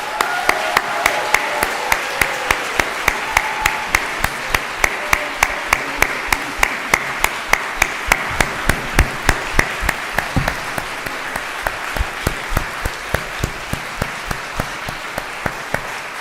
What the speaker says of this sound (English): Please join me in one last hearty round of applause